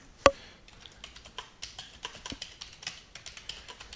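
Keys clack on a computer keyboard in a quick, uneven run of taps, starting with one sharp louder hit, close and clear with no talking.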